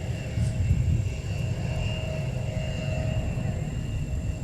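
An airliner takes off from runway 17 at MSP airport, its engines making a steady, loud roar and rumble with a faint high whine throughout.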